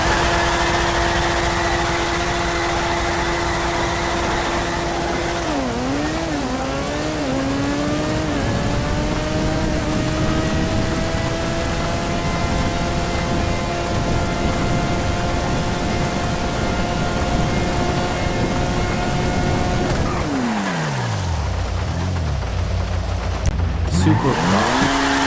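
F1 car racing in the video game GTA 5, a loud, continuous high-pitched engine whine that rises and falls through gear changes, with a sharp drop and rev burst near the end.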